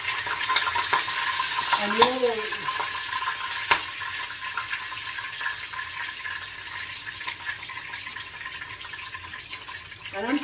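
Vienna sausages frying and spattering in a hot pan on a stove, a continuous crackling sizzle with sharp pops, loud and close, with a brief spoken word near the start.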